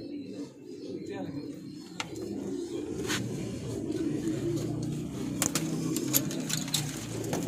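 Laal Zard Adwaar pigeons in a home loft, with soft low cooing close by and scattered short clicks and flutters, under someone talking in Hindi.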